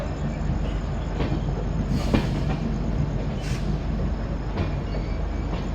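Garib Rath Express rolling on after departing Malda gives a steady rumbling rail drone with faint clicks and a couple of brief higher squeals, heard from inside the carriage with no talking.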